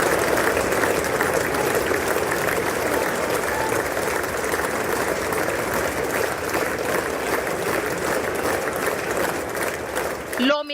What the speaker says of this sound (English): Lawmakers stood up and applauded as he walked up to the podium to deliver his address.